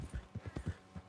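Horse hooves clip-clopping in a video game, a steady trotting rhythm of soft, close hoof thuds with a little unevenness between steps.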